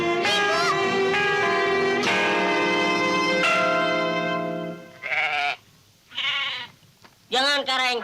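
Goats bleat among livestock in a village scene, with wavering cries rising and falling up close. Ringing bell-like tones sound at first, then several short bleats follow in separate bursts.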